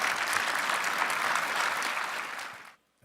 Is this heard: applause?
yes